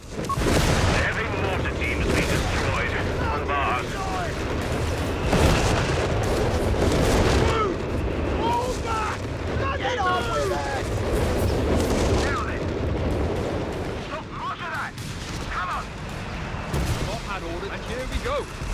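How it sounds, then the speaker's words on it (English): Artillery barrage explosions from the WWII strategy video game Company of Heroes 3, with booming blasts and crackling gunfire rolling on continuously, while voices talk throughout. "Artillery barrage on the way."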